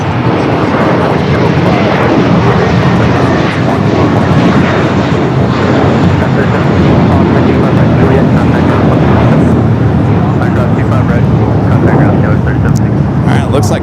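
An Aeromexico airliner in a special livery taxis and makes a left turn at Los Angeles airport, a loud steady jet engine roar filling the whole stretch without a break. Talk can be heard faintly underneath it.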